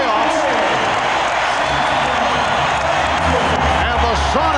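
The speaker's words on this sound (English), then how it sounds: "they are hearing it from this crowd. A standing ovation as both clubs head back to their locker rooms." Seattle's home crowd at Game 4 of the 1996 NBA Finals against the Bulls roars in a standing ovation as the teams leave for halftime, a constant loud arena din beneath a commentator talking.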